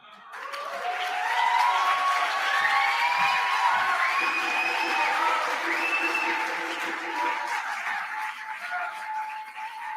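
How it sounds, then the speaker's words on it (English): Audience at an awards event honoring Malcolm X bursts into loud applause mixed with cheers and whoops, swelling quickly and holding strong before easing slightly toward the end, with scattered voices in the crowd. "Give her another round of applause, please."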